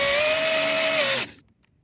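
A power drill drives a screw into wood at a building site in the woods, one steady whining run of just over a second that stops abruptly, leaving near silence.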